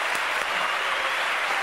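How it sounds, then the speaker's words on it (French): Dense, even applause from a television studio audience fills the room, a brief continuous wash of clapping with no pauses. "Applaudissements du public, mesdames, messieurs."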